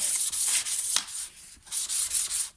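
An angle grinder deburrs hedge trimmer blades with a close, harsh hissing grind that comes in uneven strokes, swelling and dipping with brief gaps.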